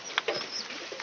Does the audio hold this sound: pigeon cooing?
yes